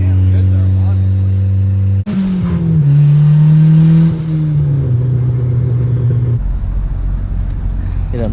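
A boosted Honda CRX engine on a dyno revs hard and loud, then falls away to a rumbling idle, with sharp backfire pops as the revs drop.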